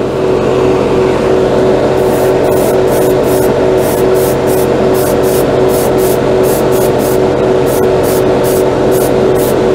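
An airbrush sprays lacquer paint in a steady, loud hiss that runs the whole time, broken by a rapid series of short bright bursts in the latter part.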